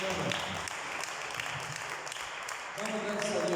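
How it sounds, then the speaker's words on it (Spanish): A church congregation claps together after a sermon, a brisk wash of hand clapping running throughout, mingled with voices. "Denle fuerte el aplauso al Señor."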